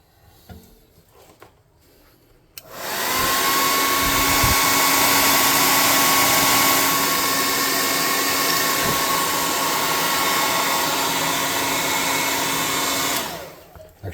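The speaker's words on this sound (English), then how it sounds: "We're going to hit this with the air gun." Hot air gun drying paint on a tabletop hover car model, a loud steady whooshing roar that switches on abruptly and runs about ten seconds before cutting off.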